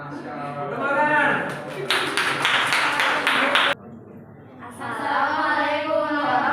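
A group in a classroom presentation claps together in a brief burst of sharp, rhythmic hand claps, with speech before and after.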